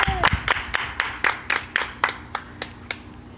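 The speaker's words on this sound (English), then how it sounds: "Round of applause" A few people clap for Ozzie's bow after a painting session, about a dozen crisp, evenly spaced claps close by that slow slightly and fade toward the end, with a brief vocal sound at the start.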